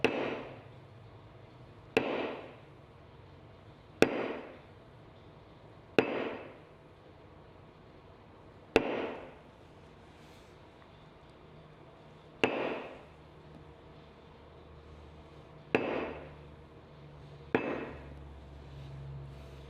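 A leather tooling stamp is tapped with a mallet on a tally book cover, giving eight sharp, isolated knocks spaced about two seconds apart, close and crisp against a quiet room.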